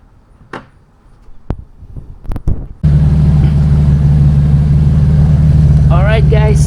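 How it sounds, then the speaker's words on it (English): A car starts and settles into a steady, loud, close idle after a few seconds of clunks and handling noise, with a brief whir near the end. "I got the car running"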